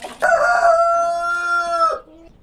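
Livenska breed chickens on a farm: one loud, close rooster crow drawn out for about two seconds, followed by soft clucking, with no talking.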